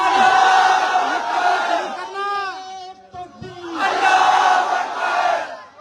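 A large crowd at a public political meeting roars the slogan Nara-e-Takbeer in unison, loud bursts of massed voices rising and falling in two waves with a brief call between them.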